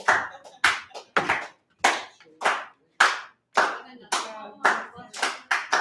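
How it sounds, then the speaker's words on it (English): Applause at a poetry reading in a pub: a small audience claps in short, separate bursts of a couple of seconds each, close and crisp, with gaps between the rounds. "Put your hands together until she finds a poem."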